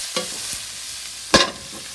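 Onions fry hot in a wok, a low background hiss broken by a light scrape and then a sharper clattering stir toss, close and brief, no voices.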